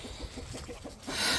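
Soft, repeated clucking from chickens close by, short low calls in an uneven rhythm over a hissy outdoor background.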